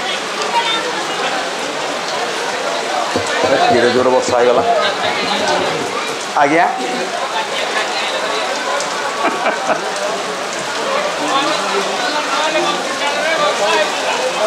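Heavy rain falls steadily and loudly through the whole stretch, a dense continuous hiss during an Odia folk stage performance, with voices faintly mixed in.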